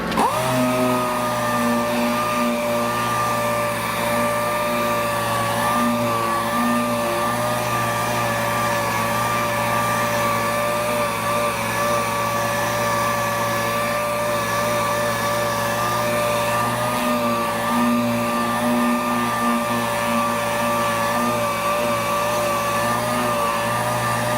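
Power sander with a hook and loop sanding system running steadily and close, a continuous motor whine with a high tonal hum that holds even for the full duration, no talking over it.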